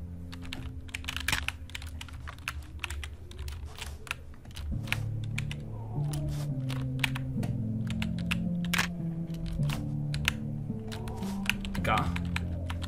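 Rapid, irregular clicks from a computer keyboard during a first-person zombie shooter game, clattering steadily beside constant in-game music and effects, with a person talking over it.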